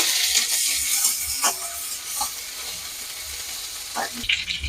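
Bay leaves, whole cumin and ginger paste sizzle in mustard oil, a loud continuous crackling hiss close by, with a few soft knocks of a spoon and a brief flare near the end.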